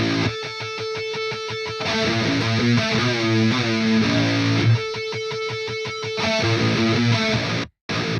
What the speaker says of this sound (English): So the guitars here during this breakdown sound like this.